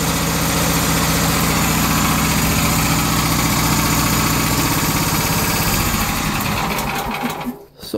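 A cheap small engine turns at about 2,000 RPM, driving a Delco 10si alternator that charges batteries, a loud, steady, buzzing drone that runs close and unbroken before dipping briefly near the end.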